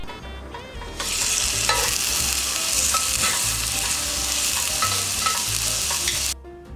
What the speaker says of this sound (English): Now I'm going to sear it so that I have a nice and golden outside